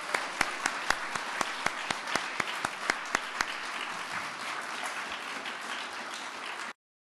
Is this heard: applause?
yes